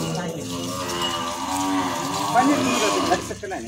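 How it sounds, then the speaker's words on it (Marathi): A cow lows in a drawn-out, wavering moo close by while being washed with water, with splashing water and faint voices in the background. "नामादादा गाय धुताला दाखव"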